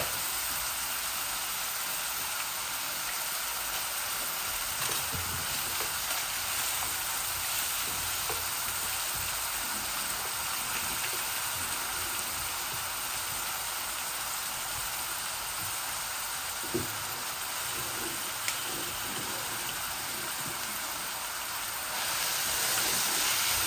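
Onions sizzle steadily in hot oil for a bhuna, a dense, even crackle that holds at a constant level throughout with no voices.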